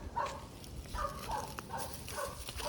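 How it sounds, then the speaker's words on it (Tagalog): A dog barks repeatedly near an abandoned house, several short bursts spread through the stretch against a steady outdoor background, moderately close. "May aso gago."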